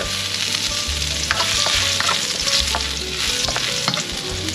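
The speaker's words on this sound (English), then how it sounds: "Now that the oil is warm, excuse me, we'll saute some ginger," Ginger sizzles and fries in warm oil for a seal congee, with a steady crackle and occasional stirring scrapes throughout, close up and without talk.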